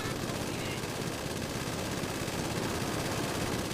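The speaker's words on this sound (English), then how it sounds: "An NPC with a minigun equipped." Video game minigun carried by an NPC fires without pause, a dense, steady roar of rapid shots that fills the whole stretch at constant loudness with no breaks.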